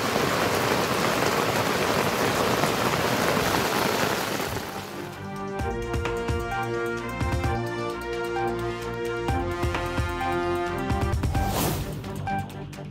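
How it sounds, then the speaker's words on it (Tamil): Heavy rain pours down steadily in a dense, continuous roar, loud and close throughout with no voices over it. "1 மணி நேரம் கொட்டி தீர்த்த கனமழை"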